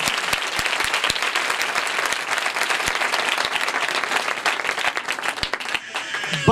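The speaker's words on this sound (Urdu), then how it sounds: "یسوع مسیح کا لیے زوردار تالیاں بجا دیتے ہیں" A congregation at a Christmas church service breaks into loud, dense applause for Jesus Christ, with the clapping sustained and crowded throughout.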